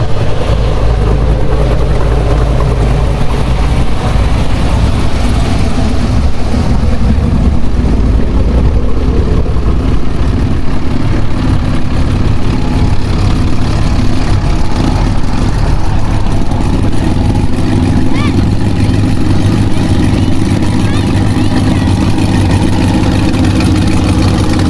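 Turbocharged 4x4 off-road truck engine at an off-road race runs loud and close with a continuous heavy rumble, holding steady throughout without clear rev spikes.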